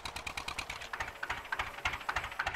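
A tractor engine in the Farming Simulator 19 video game chugs at a low, steady rhythm, with quiet repeated knocking pulses and a faint mechanical clatter throughout.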